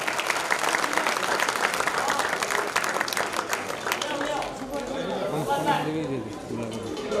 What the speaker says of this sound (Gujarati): તેમને પણ જોરદાર તાળીઓથી વધાવો.